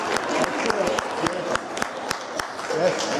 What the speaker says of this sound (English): So the reason I applauded